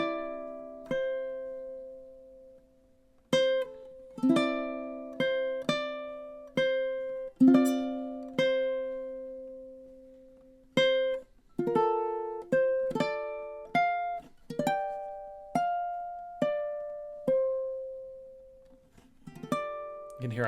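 A ukulele plays the MASH theme melody slowly and in time, single plucked notes and small chords ringing out one after another, decaying between plucks, with no voices.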